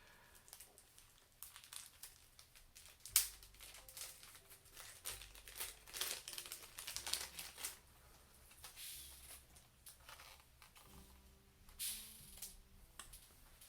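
A Funko Turbo Ring toy is worked out of a tightly wrapped plastic bag, giving close, quiet crinkling and rustling with a few sharp crackles and tearing bursts spread across the clip.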